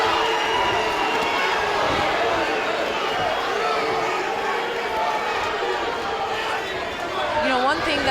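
A boxing match crowd roars steadily in an arena, a dense, sustained wash of cheering and chatter that stays loud throughout, with a commentator talking over it.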